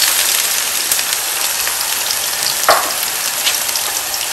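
Onion frying in a pan, a dense steady hiss of sizzling oil with a brief louder crackle partway through, close and continuous.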